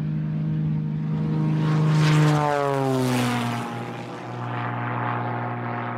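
A droning propeller engine hums steadily, its pitch sliding and shifting midway as the plane's tone sweeps, then settling back to a constant roar.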